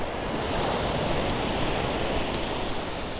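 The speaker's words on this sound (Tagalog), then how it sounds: "Yan yung alon dyan" Sea waves wash onto the shore after a typhoon, a dense, loud, steady roar of surf and rushing water with wind noise, no voices over it.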